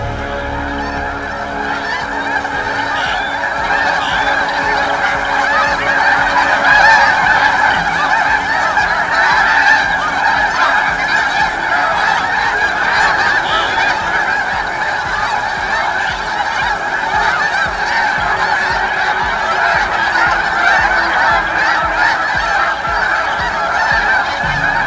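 A large flock of geese honks and calls continuously as the birds flee in alarm, a loud, dense chorus of overlapping cries that stays steady throughout.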